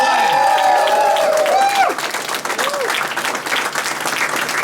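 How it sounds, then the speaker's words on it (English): Applause from an election-night audience for Aroma Cup Cafe, a loud sustained round of clapping with tonal sounds at the start, then steady dense clapping to the end. "a round of applause, Aroma Cup."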